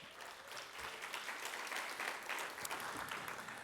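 An audience applauds at a Lynwood school district event after a student director is introduced: steady, moderately dense clapping heard from a distance at a low level, with no speech over it.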